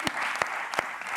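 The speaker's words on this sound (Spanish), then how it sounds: "Un aplauso para Gerard Moreno y Dani Parejo." A studio audience on a Spanish late-night talk show claps steadily and densely, a loud, continuous wash of applause with a few sharper bursts.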